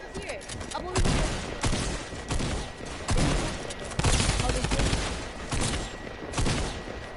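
Rapid bursts of drum gun fire in a PS4 shooter game, several loud sustained volleys with short gaps between them, while a player talks over the gunfire.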